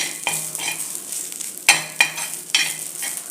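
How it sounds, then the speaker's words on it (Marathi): Dry grated coconut roasting with onion in a pan, a steady sizzle broken by a few sharp scrapes and clinks of a spatula against the metal. "आता याच्यामध्ये आपण सुकं खोबरं घालून घ्यायचं आहे तेही कांद्यावर थोडं लालसर होईपर्यंत भाजायचं"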